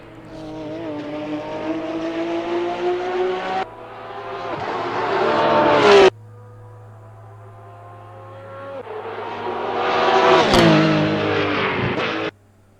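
A Porsche 911 GT3 R racing engine in Assetto Corsa, with a sound mod, roars loudly, revving up through the gears with sharp shifts, dropping off, then climbing again to a high-pitched wail.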